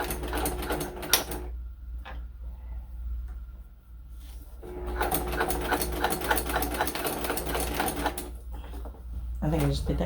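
Sewing machine basting fabric for a key ring project, running in rapid stitching bursts with a pause in the middle, fairly close, with soft talk in the quieter stretch.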